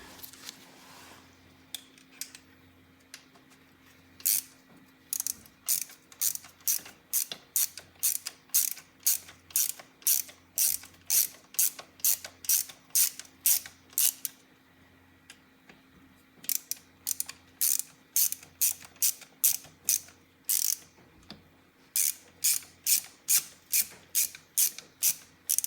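Ratchet torque wrench tightening bolts to spec, heard close and clear as repeated runs of sharp clicking strokes in a steady rhythm, with brief pauses between bolts and a faint hum behind.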